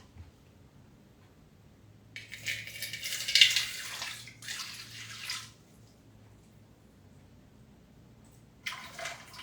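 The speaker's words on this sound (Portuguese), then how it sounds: "Daí agora 160 gramas, falei, água." Water poured for a rye and wheat sourdough starter, 160 grams of warm water at about 50 degrees, comes as two close splashy pours followed later by a brief trickle, fairly quiet with no talk.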